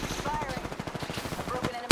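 Automatic weapon fire in the Apex Legends video game: rapid, evenly spaced bursts of shots rattling close by, with a brief sharp blast at the end.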